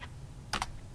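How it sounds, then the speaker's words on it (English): A couple of quick keystrokes tapped on a computer keyboard while entering an Excel formula, two close soft clicks against a quiet background. "I'm going to type"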